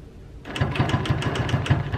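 Sewing machine stitching a quilt starts up after a short pause and runs in a fast, even rhythmic chatter, close and fairly loud.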